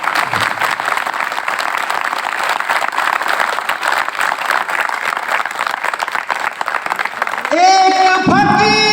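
Dense, loud applause fills a Hindi kavi sammelan, a comedy poetry recital, as a large audience claps steadily. It cuts off abruptly near the end, giving way to a sung or musical tone.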